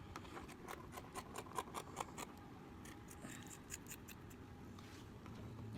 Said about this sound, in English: Okay, so I'm just going to cut this into a circle, okay?